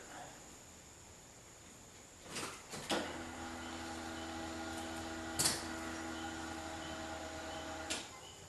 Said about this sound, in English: let the fuel pump prime like you're supposed to